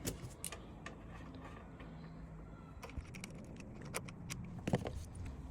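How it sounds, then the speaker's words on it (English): While a 36v/48v electric quad bike is being assembled, small metallic clicks, ticks and jingles come from a nut and bolt being worked out of a frame part, quiet and irregular, louder toward the end. "We take the nut and bolt out of the frame part."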